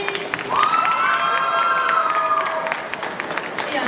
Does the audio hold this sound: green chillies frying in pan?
no